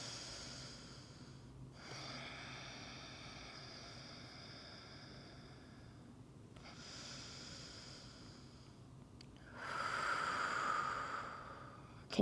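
Slow, soft breaths during a yoga pigeon pose, several long airy inhales and exhales spaced evenly and heard close and quiet, the last one slightly louder.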